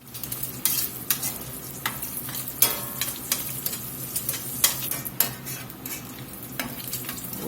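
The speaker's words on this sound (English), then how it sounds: "We got our bacon browned up here." Bacon browning in a skillet gives a steady frying sizzle, broken by sharp scrapes and clinks of a utensil stirring the pan at irregular moments, close up and with no talk.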